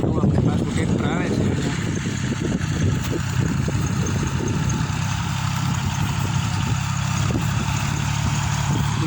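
A 2007-8 model VST Shakti tractor engine idling on a farm, a steady low mechanical drone heard close and continuous throughout, with a voice speaking over it.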